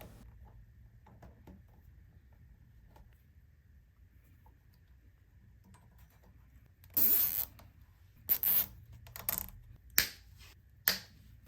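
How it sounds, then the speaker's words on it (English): Zip ties are ratcheted tight to secure a loose wire onto an ebike during a motor core replacement, giving a quiet pause followed by several sharp zipping rasps and clicks close by. "secure the loose wire onto the bike with some new zip ties"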